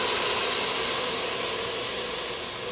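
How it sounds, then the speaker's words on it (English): A loud, steady sizzle hisses continuously up close as stock is added to a hot pan of risotto rice, easing slightly toward the end, with no talking. "you'll hear a big sizzle because the pan is still hot when I add this stock initially"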